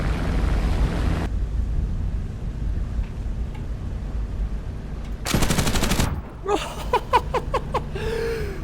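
A short, rapid burst of machine-gun fire from an F6F Hellcat in War Thunder cracks out over a dull engine drone, followed by a few quick, sharper bursts and a brief whistling tone.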